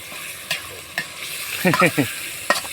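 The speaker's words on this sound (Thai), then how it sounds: "เริ่มแรกก็ผัดหมูให้สุก ๆก่อนนะครับ" Pork stir-fries in a pan for fried instant noodles with egg: a soft, steady sizzle runs underneath while a utensil makes sharp scraping stirs, including a quick cluster of strokes, close and fairly loud.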